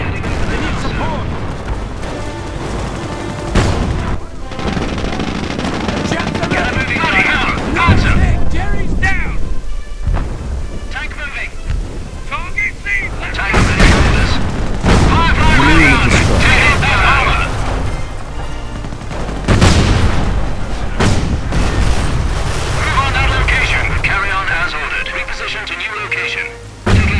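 A video game battle rages with heavy, continuous booming explosions and rolling gunfire, loud and dense throughout, while voices shout over the din.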